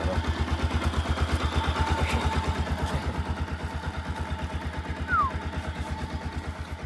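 A motorcycle engine runs at a steady idle before a ride toward Pokhara, its low, regular chugging pulse even and fairly close, with a brief rise near the end.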